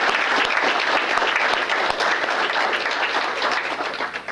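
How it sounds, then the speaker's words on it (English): Dense applause fills a room at a mayor's employee recognition awards ceremony, continuous clapping from many hands that gradually thins out toward the close. "So if we can just have a round of applause for everybody that came"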